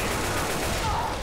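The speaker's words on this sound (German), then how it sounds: "Auf den Tank schießen, auf den Tank schießen." Gunfire aimed at zombies and a Tank in the Left 4 Dead 2 video game, a dense, loud, continuous burst of rapid shots filling the whole moment.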